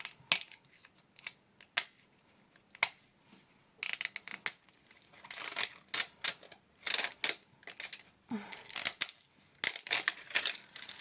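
Disney Mini Brands packaging being torn open by hand, with a string of sharp crinkling rips and crackles of plastic wrapping, close up and irregular, growing denser partway through, with no talking.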